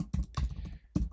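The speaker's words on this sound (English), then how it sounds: "if we just press T on your keyboard" Keys pressed on a computer keyboard while working in Figma design software, a few separate clicky taps spaced apart, close and fairly quiet with no voice over them.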